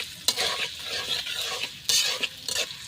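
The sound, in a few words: chopped onion and green chilli frying and being stirred in a pan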